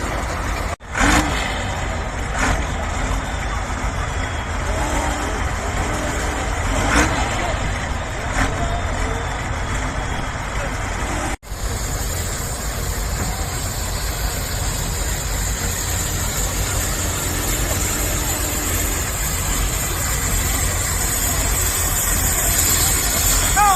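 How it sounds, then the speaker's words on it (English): A diesel tractor engine runs steadily and loudly nearby at a steam rally in Whitby, a constant rumbling drone with a brief dropout partway through. "So the next tractor back onto the pole is the Singletons."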